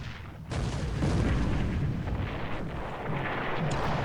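Heavy naval gunfire from 36-centimeter guns in the War in the Pacific game: a sudden loud boom opens into a long, rolling, rumbling roar that holds, with a second swell near the end.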